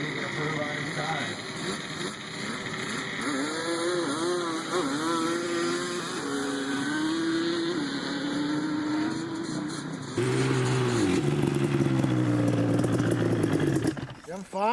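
Racing snowmobile sleds at a Michigan winterfest drag event, engines revving steadily with harmonic whine, then a louder, closer full-throttle surge near the end, with a crowd and an announcer talking over it.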